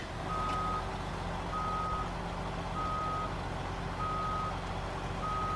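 Kenworth truck in the SnowRunner video game pulling away, its steady engine drone running under a repeating reversing beep that sounds about once a second, loud and continuous with no talk.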